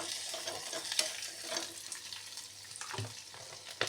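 Onion and half a tomato in pieces frying together in a pan, with a dense, steady sizzle and occasional stirring scrapes, close and fairly quiet, with no talking.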